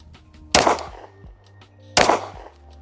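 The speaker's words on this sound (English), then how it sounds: "First shots on the 226." A West German SIG P226 pistol fires two sharp, loud shots about one and a half seconds apart, each with a short ringing echo, at an outdoor or range setting.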